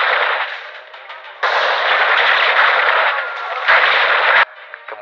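Gunfire shot into a forest in the 1993 film Sniper: loud bursts of rapid shots in long sustained volleys with short pauses between them, close and harsh.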